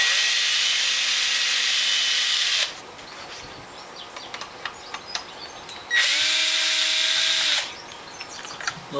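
A power driver backing screws out of a flintlock lock plate, two whirring runs of a few seconds each, close and loud, separated by small clicks and handling noises.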